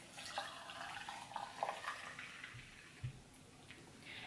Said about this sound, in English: pour in our hot water